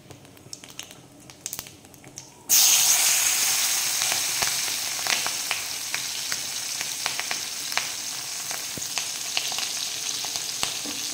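Nigella seeds and green chillies hit hot oil left from frying aubergines and burst into a loud, steady sizzle after a quiet start, crackling on with small pops throughout.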